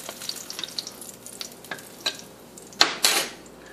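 Tuna cakes sizzling and frying in a pan, with soft crackles, occasional scrapes and a couple of clinks from a utensil.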